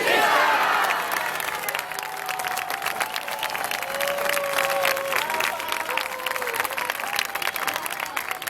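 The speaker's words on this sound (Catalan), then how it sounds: "Un fort aplaudiment" At a Diada de Catalunya gathering, an audience breaks into strong applause mixed with cheers and shouts, dense clapping continuing throughout with voices rising above it.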